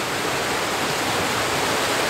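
Mary Vine Falls on Vancouver Island, Canada, pours in a steady, loud, broadband roar of falling water, close by and unbroken with no voices.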